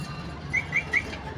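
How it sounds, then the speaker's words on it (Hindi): Pet budgies and a parrot make three short, evenly spaced whistled chirps, bright and close against a low steady room hum. "देख रहे हैं आप लोग, बजीज को सीटियाँ मार रहे हैं।"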